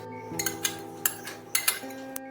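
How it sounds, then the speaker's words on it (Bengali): A spoon mixes tempering into yogurt in a bowl, making a few light, irregular clinks and scrapes against the bowl, close and clear. "দইটার মধ্যে ভালোভাবে চামচ দিয়ে মিশিয়ে দিতে হবে"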